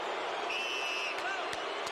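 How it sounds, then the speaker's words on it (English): Arena crowd at a heavyweight boxing event reacting with a steady, loud roar of booing and noise, broad and continuous throughout, with a few sharp bangs near the end. "Crowd here responding to the picture of Lennox on the Jumbotron. Many of those who are booing"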